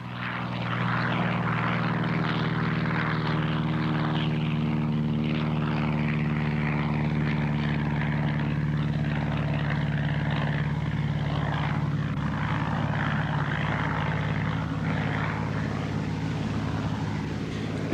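A small propeller aircraft flies over the high Sierra Madre mountains, carrying supplies to remote settlements. Its engine drones loudly and steadily for the whole stretch, with no voices.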